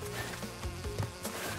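A bee from the Crash Bandicoot N-Sane Trilogy video game buzzes in a steady, fairly faint insect drone with a wavering tone, heard alone without talking.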